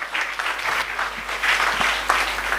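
Steady clapping fills the hall at a motivational speech and Q&A event, a dense, continuous round of applause from the audience, close and even in level for the whole short stretch.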